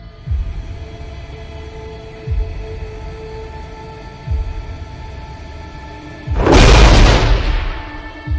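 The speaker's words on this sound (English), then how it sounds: "Aye, aye, Commander. Firing missile." A missile launches in the space combat game Nebulous Fleet Command, giving a loud roaring whoosh near the end, after several deep periodic booms over a low ambient hum.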